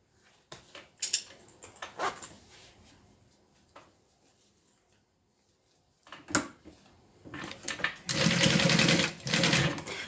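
A sewing machine stitches scarf fabric in short bursts of rapid mechanical whirring and clatter, close and fairly loud, separated by pauses of fabric handling, with a longer steady run near the end.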